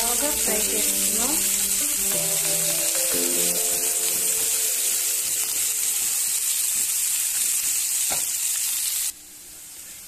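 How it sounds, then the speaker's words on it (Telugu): Chopped onions fry in a pan for palak paneer, giving a steady loud hiss and crackling sizzle with the occasional scrape of stirring, while someone speaks quietly over the cooking. "బాగా ఫ్రై చేస్తున్నాం"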